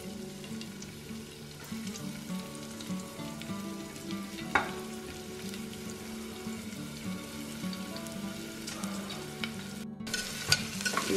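Mustard seeds, cumin and onion frying in a pan for a fresh field bean sambar, a quiet steady sizzle with frequent stirring scrapes and light taps of the spoon, no voices.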